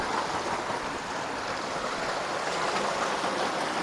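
A mountain stream flows through a valley in rural Kunar, Afghanistan, making a steady, continuous rushing wash of water with no voices over it.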